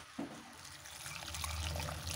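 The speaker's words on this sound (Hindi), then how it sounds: "गाजर में अब हम ये दूध डाल देते हैं।" Milk is poured into a pan of grated carrots while gajar halwa is being made. A soft, steady liquid stream starts after a small knock and continues close by and faint.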